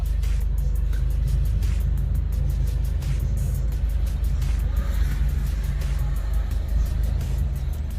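Steady low engine rumble and road noise from inside a car moving slowly through merging traffic, continuous and fairly loud, with a few faint ticking sounds on top.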